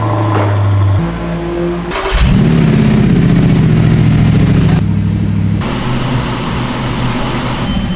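An Audi R8 or Maserati engine runs loud and near, a throaty idle that climbs into a higher, steadier drone after a couple of seconds, then settles back.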